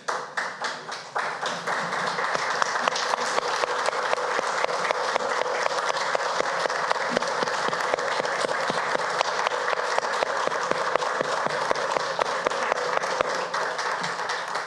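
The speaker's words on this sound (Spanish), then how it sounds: "Los que estamos acá, tenemos que aplaudirlos y les pido que se pongan de pie y aplaudan a" A standing audience applauds an Afro-Peruvian artistic group at a recognition ceremony, loud sustained clapping from a sizable crowd that builds quickly and stays dense, with crisp nearby claps throughout.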